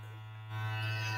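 An airbrush for makeup blows air and leftover makeup out through its tip after cleaning, a steady hiss that rises and grows louder halfway through over a constant low hum from the compressor.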